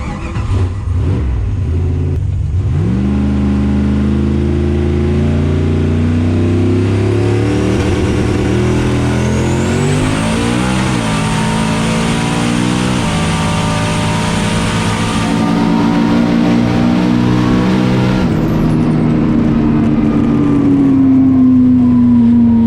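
A turbocharged 5.3 V8 drag car holds a loud, burbling rev on the launch limiter, then launches and screams up through the revs with a gear change, roaring close and continuous to the end.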